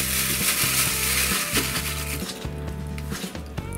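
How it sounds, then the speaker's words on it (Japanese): Marinated pork sizzling in a hot pan, a steady loud frying hiss with rhythmic pulsing underneath, fading slightly toward the end. "ではお肉を焼いていきます。"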